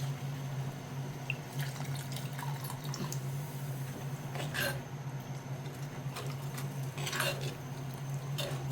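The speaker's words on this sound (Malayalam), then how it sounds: "വെള്ളം ഒഴിച്ചു കൊടുക്കട്ടെ." Steady running water splashes and trickles continuously, like liquid being poured into a pot, with a low hum underneath.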